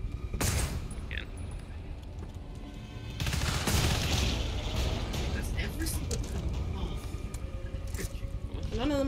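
Automatic turrets in the GTFO game firing repeated bursts of gunfire, loud and close, with sharp clusters of shots amid a steady noisy combat din, under occasional talk.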